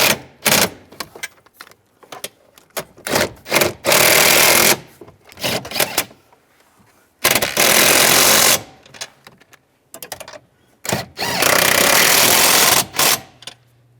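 A power tool snugs down nuts on a 2007-2013 Chevrolet Silverado during an EVAP core replacement, sounding as loud bursts of rattling buzz a couple of seconds long, separated by quieter clicks and pauses.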